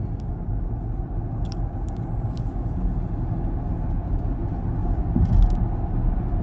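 A Chevrolet Blazer EV SS merges onto an interstate, heard from inside as a steady low road rumble and tire noise, with a few faint clicks and no talking.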